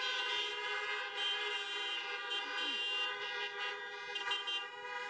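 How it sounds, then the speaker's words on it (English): Many car horns honk together at a drive-through high school graduation in Calgary, a loud, sustained chorus of overlapping toots that continues without a break through the whole stretch. "Can I just get you by the honk of your horns to join me"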